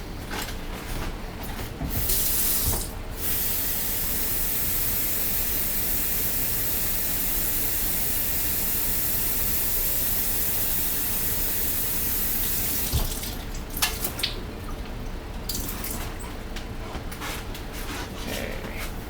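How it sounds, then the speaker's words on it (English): Water runs steadily from a tap to fill a new coffee-maker filter setup, a continuous close rush lasting most of the clip, with brief knocks and splashes near the start and end. "Fill it with water."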